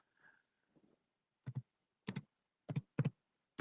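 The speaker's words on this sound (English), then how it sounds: "I'm going to type in my email." Short bursts of typing on a computer keyboard, four or five quick clustered clicks spaced about half a second apart, close and fairly quiet against near silence, with a faint murmur at the start.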